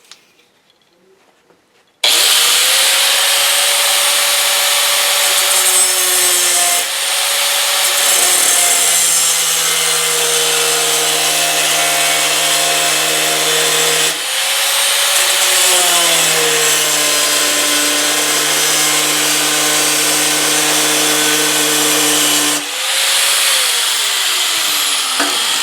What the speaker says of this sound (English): So we'll see how it goes with an angle grinder.